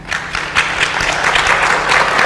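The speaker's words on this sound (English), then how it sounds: "I appreciate the enthusiasm, but want to hold our applause no matter who's speaking." Audience at a school board meeting applauding: a sustained, loud burst of many hands clapping close by, dense and even throughout, with no talk over it.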